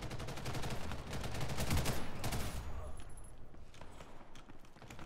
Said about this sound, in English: There's some sort of sentry turret over there.